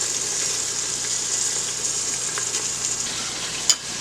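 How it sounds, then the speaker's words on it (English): Honey garlic pork chop chunks sauté in an Instant Pot, a steady close sizzle and hiss with faint spatters and one brief clatter near the end, no talking. "you're just going to saute these about 1 to 2 minutes on each side"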